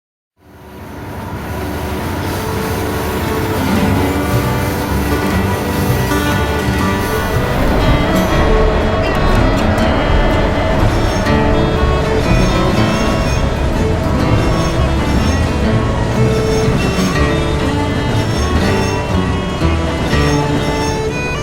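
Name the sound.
trains running, from the video game Rails of Highland Valley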